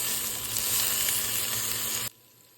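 Potatoes and carrots sizzle loudly in a pan while being sautéed for chicken curry, a dense, steady hiss that cuts off abruptly near the end, with no one speaking.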